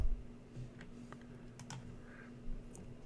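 Someone types on a computer keyboard, producing a few sparse, soft clicks and taps spread across a quiet room with a low steady hum.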